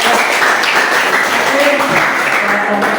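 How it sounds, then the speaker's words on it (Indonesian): Applause for a student group after its classroom presentation: a steady, dense wash of clapping that fills the whole moment, with voices mixed in underneath. "Tepuk tangan untuk kelompok"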